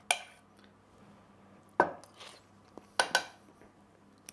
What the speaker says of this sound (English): Stir it to mash it.